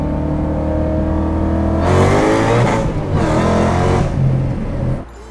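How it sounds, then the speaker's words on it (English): A 1000 hp Shelby GT500 Super Snake with a twin-clutch transmission reverses uphill into a parking spot with no throttle. A low, steady engine idle rumbles throughout and briefly rises and swells in the middle. "I'm reversing up a hill with no throttle at all. No gas whatsoever, back into a spot uphill."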